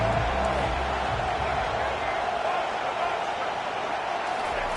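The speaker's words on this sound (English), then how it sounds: "Decibels rising as the crowd gets behind this defense on 3rd down." Stadium crowd in a football video game on third down, a dense, steady roar of many voices filling the air at moderate volume without pause.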